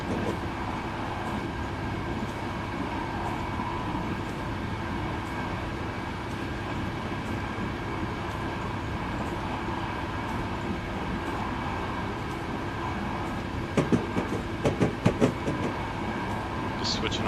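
A train in Train Simulator 2014 rumbles steadily along the rails, with a constant mechanical drone and a cluster of brief clanks near the end.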